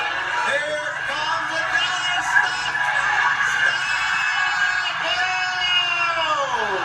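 Studio audience on The Price is Right reacting to a contestant, a loud crowd of whoops, yells and cheers mixed with talk, continuous and dense throughout.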